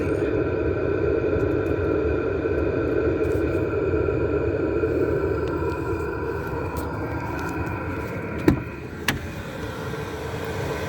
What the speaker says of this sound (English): That's the sound of my fucking diesel heater.